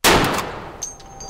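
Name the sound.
gunshot from .50 BMG GM6 Lynx rifle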